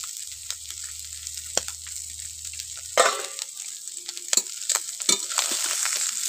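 Ruli fish fry in a pan, giving a soft sizzle with a low hum at first, then scraping stirs and clinks of a utensil against the pan in irregular bursts.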